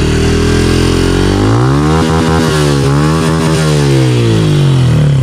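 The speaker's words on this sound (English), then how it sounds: "this might be the last time you're gonna hear the stock CRF 110 engine" A stock Honda CRF110 pit bike engine fitted with a Yoshimura exhaust revs hard and close, its pitch rising and falling through several throttle blips over a steady loud idle, with no talking.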